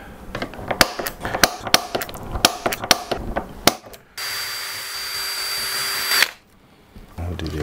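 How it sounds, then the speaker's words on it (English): A string of sharp knocks and bangs, then a loud, steady whine of a power drill pre-drilling into metal for about two seconds before it stops. "I'm gonna pre-drill these."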